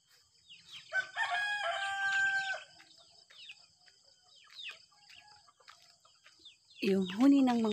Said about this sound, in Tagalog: Yung huni ng mga manok.